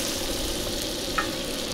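Oil and a pat of butter sizzle in a skottle at a campsite, a close, continuous crackling fry with one small pop partway through.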